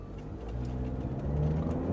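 A 2019 Cadillac XT4 with a turbocharged engine pulls away after being shifted into drive, giving a quiet steady engine whir that builds gently as the car accelerates, heard from inside the cabin.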